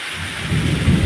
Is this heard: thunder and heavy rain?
yes